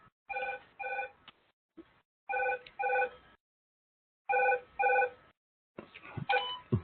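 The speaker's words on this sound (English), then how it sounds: "phone is ringing" A telephone rings in repeated double bursts, two bright electronic trills per cycle with silent gaps between, close and clear, then cut off near the end with a brief rustle.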